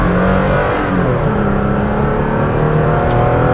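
A 2016 Toyota Tacoma Limited 4x4 Double Cab with a V6, heavily loaded, accelerating from inside the cab, with a steady loud engine drone and road rumble that climbs slowly, and no talk.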